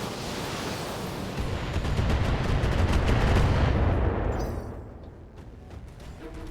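Mech weapons fire in the Battletech video game, a dense burst of rapid gunfire and blasts swelling into a loud, rumbling barrage before tailing off into scattered sharp cracks.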